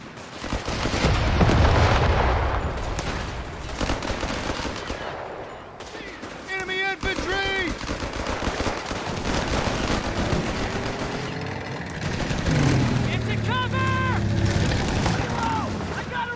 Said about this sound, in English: They're taking pot shots at us!